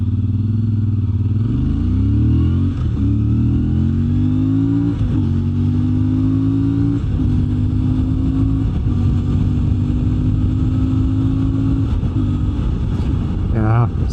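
A CFMOTO 450 MT motorcycle fitted with 15T and 45T sprockets accelerates hard on the road, its engine climbing in pitch through several gear shifts with wind noise roaring loudly alongside.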